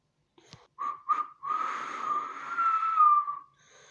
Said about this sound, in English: This is me whistling.